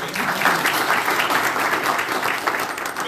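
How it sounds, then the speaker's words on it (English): Audience applause fills a community gathering held to welcome a new director of a Montgomery family-help initiative. The clapping is loud, dense and steady from start to finish, with no talk over it. "Give her a round of applause."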